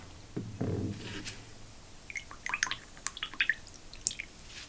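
Painting water being swapped at an art desk: a low splash and slosh early on, then a scatter of small drips, clinks and wet squishes, quiet and close with no talking.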